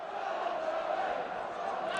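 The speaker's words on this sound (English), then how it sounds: "Good support from the home crowd." Home football crowd at Burnley's stadium during a 2004 league match against Wolves, a steady broad roar of supporters filling the whole stretch without breaks, distant and even in level.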